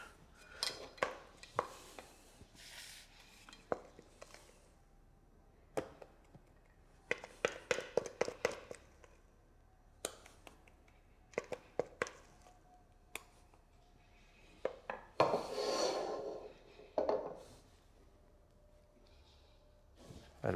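A spoon clicks, taps and scrapes in scattered quiet bursts as filling is spooned into a pastry shell for a Burgundy-style tart, with a longer soft scraping run toward the end.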